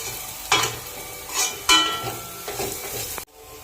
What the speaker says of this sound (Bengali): এক চামচ জিরে গুঁড়ো দিয়ে দিচ্ছি, কষিয়ে নিচ্ছি ভালো করে।